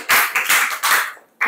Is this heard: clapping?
yes